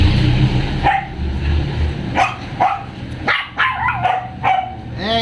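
A small dog, a Pomeranian or Corgi, barks and yips in a string of sharp, separate bursts, fairly close, over a low background rumble.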